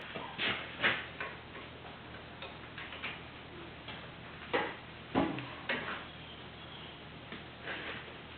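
A wrench ratchets on 13 mm bolts at the back of the steering knuckle during a wheel bearing job on a Chevy Impala, giving scattered, fairly faint ticking clicks in short irregular bursts with no talking.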